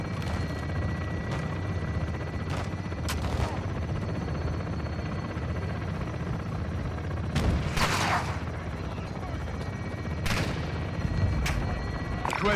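Gun run in the Modern Warfare 2 campaign: a helicopter's steady droning rotor fills the whole stretch, broken by several sharp, loud bursts of gunfire at irregular intervals.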